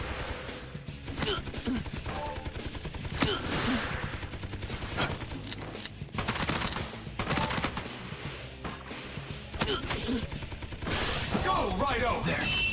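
Gunfire in the video game Raidou Remastered, bursts of shots at an enemy mixed with game music and effects, running nearly continuously and fairly loud throughout.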